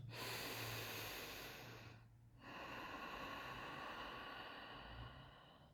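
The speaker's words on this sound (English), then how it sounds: "breath in, full breath out." A full, slow breath in and out during a breathing exercise, audible as a long airy inhale, a brief pause, then a sustained exhale, close and steady with no talking.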